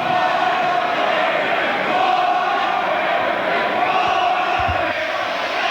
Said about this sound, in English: The crowd are here from Cranbourne.